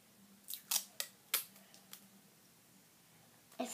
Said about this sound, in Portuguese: Esses durex são complicados